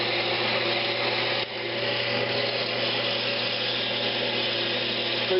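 A bowl gouge roughs down a wood blank spinning on a lathe around 2,000 rpm, giving a steady close motor whir with a continuous rough cutting hiss and a brief dip partway through.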